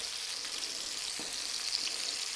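White wine splashed into a pan of browning mushrooms and butter sets off a steady, crackling sizzle with a soft, watery hiss and no talking.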